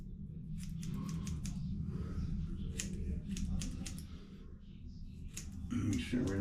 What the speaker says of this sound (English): Now let's take the scissors and cut around the ears.